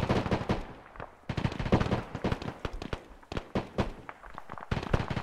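Rapid bursts of automatic gunfire and single shots in the military video game ARMA, loud and dense, crackling continuously with brief gaps throughout.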